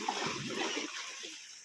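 Splashing and sloshing from someone swimming in cool open sea water on a beach trip at Malvan, Sindhudurg. A steady wash of water runs through the whole moment, loud and close, with no talk over it.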